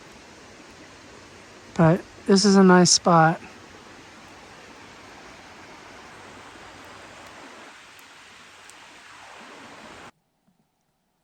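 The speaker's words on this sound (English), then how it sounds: "because the river's making a lot of noise" A rushing river near a forest campsite in Helen, Georgia, a steady broadband hiss of flowing water running throughout at moderate level, with someone briefly speaking over it near the start.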